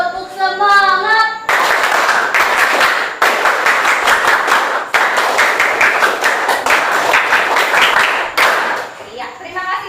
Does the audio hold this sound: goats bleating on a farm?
no